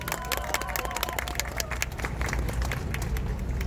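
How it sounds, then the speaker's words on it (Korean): Crowd applause at an outdoor Seoul election campaign rally in Yangcheon-gu, with dense steady clapping and some cheering that holds for the whole stretch without letup. "박수 한번 주십시오."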